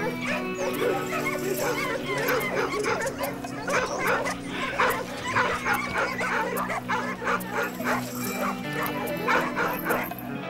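A pack of hunting dogs barks and yips repeatedly during a wild boar drive hunt, a dense overlapping chorus of sharp barks with occasional whimpers, steady and fairly close, with faint background voices.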